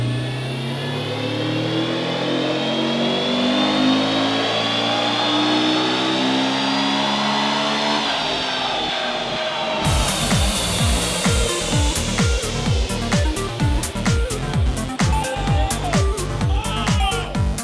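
A car engine on a dyno during a power run, a rising sustained drone climbing steadily in pitch, then a sharp switch to loud, rapid, pulsing rattling revs, close and continuous.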